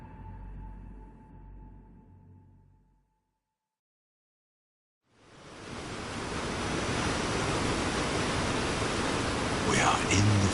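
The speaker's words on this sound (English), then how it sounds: "We are in the forest. Before us is a waterfall." A forest waterfall in Cyberpunk 2077 pours as a steady, full broadband rush that swells in after a few seconds of quiet, preceded by a low hum, and holds loud and even to the end.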